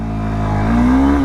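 A Bajaj Pulsar 180 motorcycle pulling away under acceleration, its engine note climbing steadily in pitch and growing louder, heard close and alone without voices.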